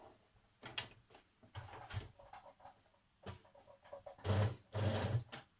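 Short, separate bursts of a sewing machine running a stretch stitch along the turned-under hem of a jersey knit top, several start-stop runs, the last ones longest and loudest, with quiet gaps between and no talking.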